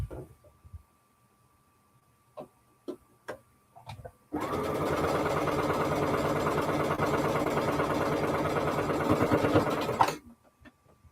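A sewing machine runs steadily for about six seconds as it stitches a curved quilt block seam, loud and continuous, with a few light handling clicks before and after.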